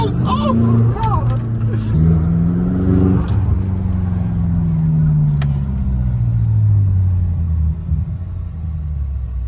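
A tuned BMW X5M F85 SUV with all-wheel drive roars as it accelerates hard on a track, its deep engine rumble rising in pitch through the gears under muffled voices inside the car.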